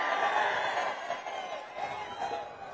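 A large crowd at an outdoor public political rally cheers and claps, a dense continuous roar of voices and applause heard from a distance with no single speaker.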